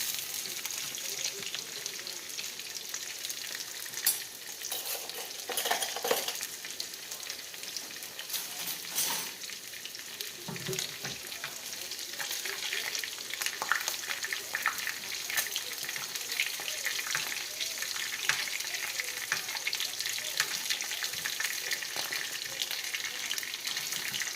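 Salmon flaked up in a frying pan, a steady broad sizzle of frying running throughout, with scattered clinks and scrapes of a utensil against the pan, close and moderately loud.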